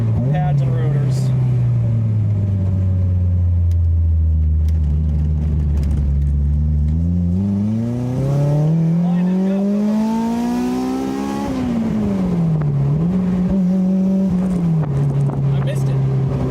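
A K-swapped Toyota MR2 fitted with Koni Yellow shocks pulls hard from inside the cabin, its engine note climbing through the revs, easing off briefly at a shift, then rising again, loud and close throughout.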